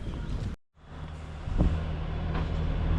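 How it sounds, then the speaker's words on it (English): A bus rolls past on a road near Pokhara, a low engine rumble with a rising drone that grows louder as it goes by, after a brief cut to silence. "The bus just passed me, so there is a bus."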